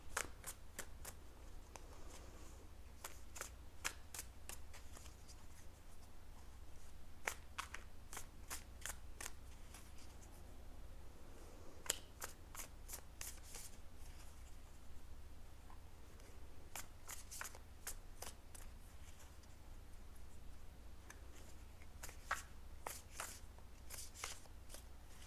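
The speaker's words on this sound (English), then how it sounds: "I do like to shuffle them on camera just so I can connect to your energy a little bit" Tarot card decks are shuffled by hand in repeated bursts of crisp riffling clicks and slaps, quiet and close, separated by short pauses, with no talking.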